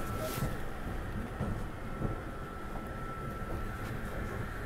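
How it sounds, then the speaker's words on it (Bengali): A Garib Rath Express train pulls into Puri station, a low steady rumble with a faint whine and soft clanks, fairly quiet and continuous with no talking. "ট্রেন ঢুকছে পুরী স্টেশনে।"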